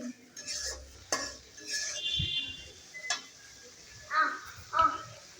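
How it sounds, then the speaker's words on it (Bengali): Ground spices with salt, turmeric and coriander powder are stirred in a pan. A spoon makes quiet, irregular scrapes and taps against the metal, with soft clatter in between. "লবণ হলুদ আর ধনে গুঁড়ো দিয়ে মশলাটাকে আবার নেড়ে চেড়ে দিচ্ছি"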